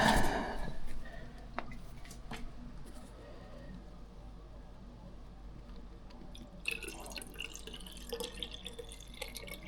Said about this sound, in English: we got some distilled water here, so we'll fill it up with this.